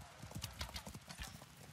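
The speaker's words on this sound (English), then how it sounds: "Horse, onwards. Quickly. Trotting." Horse hooves clip-clop in a quick trotting rhythm in The Valiant, a medieval PC game, with a brief whinny, close and steady over about two seconds.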